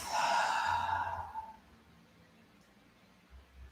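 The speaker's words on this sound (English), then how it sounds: "Releasing the exhale out of the mouth." A soft exhale released through the mouth during a gentle yoga breathing practice, a breathy sigh that lasts about a second and a half and then fades into quiet room tone.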